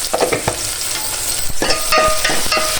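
Sliced onions sizzling in a pan with a pinch of salt for a broad bean curry, a loud, close crackling fry broken by several sharp stirring scrapes and knocks against the pan.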